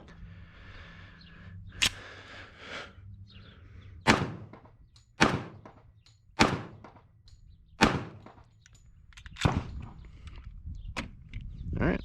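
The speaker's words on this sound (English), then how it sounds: "4 more rounds with the 45. I'm gonna fire a little bit faster this time." A Ruger P90 .45 Auto pistol fires at an outdoor range: several sharp, sudden reports spaced a second or two apart, fairly close, with some quieter handling sounds between shots.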